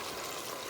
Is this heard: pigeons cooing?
no